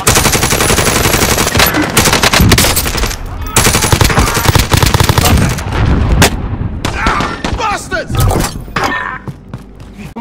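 Dense automatic and single gunfire from a Warzone match, loud and continuous with sharp bursts throughout, players talking over the shooting.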